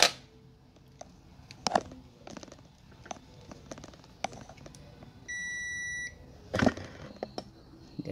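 Multimeter continuity buzzer beeping while a shorted circuit in a Polytron PLD40T851 LED TV is probed: one clear electronic beep under a second long, among probe taps and handling clicks, with no talk.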